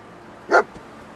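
The dog Dogmeat in the video game Fallout 4 gives a single sharp, fairly close bark that stands out against a quiet background.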